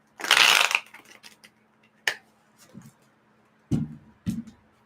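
Cards are riffled once in a quick burst, followed by a few sharp taps and soft thumps as the deck is squared and handled.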